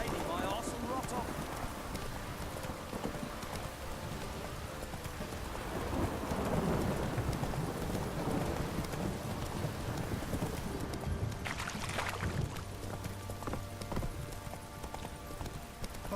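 Steady rain pours down in The Witcher 3 with a low rumble of thunder and the clip-clop of horse hooves. Someone talks over it, loud and close.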